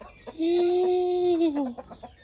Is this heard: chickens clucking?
yes